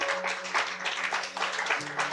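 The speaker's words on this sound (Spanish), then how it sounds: "Vamos a dar un aplauso a nuestro Señor." A church congregation applauds together, brisk clapping of many hands close by with faint voices mixed in.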